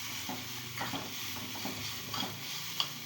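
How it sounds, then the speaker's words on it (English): Grated carrot (gajar) fries in a pan with a steady, faint sizzle. Light stirring scrapes and soft taps recur every half second or so, close and alone. "So I am fry this grated gajar also."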